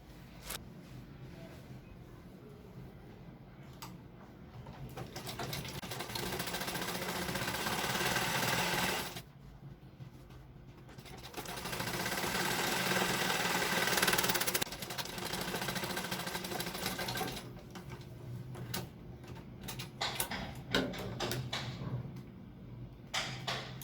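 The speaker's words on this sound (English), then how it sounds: "you are sewing through, leaving a small space" A sewing machine stitches through a pillow lining in long, steady, close runs of whirring, broken by short pauses where the motor stops before starting again.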